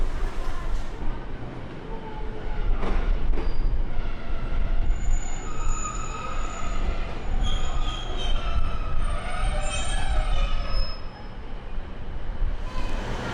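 A service train passes on the Cumbrian Coast line, a loud, sustained rail roar with wheel squeal and rhythmic clatter that swells and then fades as it goes by.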